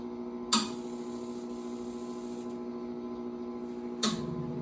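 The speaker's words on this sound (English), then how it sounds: "So now you can hear the burners kick on." Burners on an MCR-1 coffee roaster igniting, heard as two sharp close whooshes a few seconds apart over a steady low mechanical hum, with no talk.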